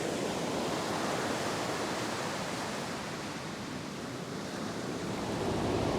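Ocean waves break on a fishing beach in a continuous, loud roar of surf with no distinct gaps, only slight swells in intensity.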